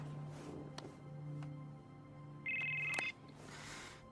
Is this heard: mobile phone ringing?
yes